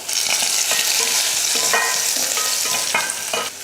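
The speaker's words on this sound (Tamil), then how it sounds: "எண்ணெய் காஞ்சதுமே கொஞ்சம் கடுகு, ஒரு 5 பல் பூண்டு இடிச்சிருக்கேன், அதையே சேர்த்துட்டு அது கூடவே கொஞ்சம் கருவேப்பிலையும் சேர்த்துடலாம்." Mustard seeds, five crushed garlic cloves and curry leaves hitting hot oil for rasam, a loud, dense sizzle with sharp crackles and spluttering pops throughout.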